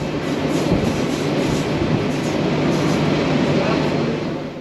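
The Northern Explorer passenger train runs through the Rangitaki Valley gorges over viaducts, a dense, rumbling roll with faint rhythmic clatter, heard from on board and steady for several seconds before easing slightly.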